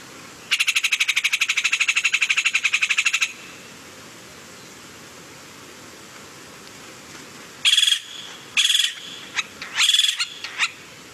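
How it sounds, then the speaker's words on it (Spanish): Hoffmann's woodpecker (Melanerpes hoffmanni) gives a long, rapid rattling call, then several short, loud, shrill bursts, close and clear against a quiet background. "El Melanerpes hoffmanni canta así"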